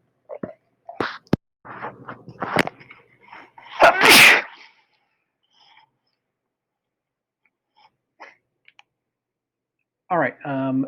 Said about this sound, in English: I'm gonna go sneeze.